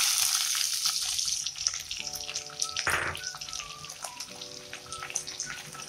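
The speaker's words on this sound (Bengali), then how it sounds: "পেঁয়াজগুলোকে খুব ভালো করে ভেজে নিতে হবে" Chopped onions fry in hot oil with cumin seeds for a chicken dopiaza, giving a steady, fairly loud sizzle that runs the whole way through, with a brief burst of clatter in the middle and no talking.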